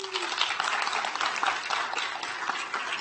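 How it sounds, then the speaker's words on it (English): An audience at a county board of supervisors meeting gives steady, continuous applause for a retiring healthcare services employee, an even wash of clapping with no pauses. "We can extend those applause a little longer."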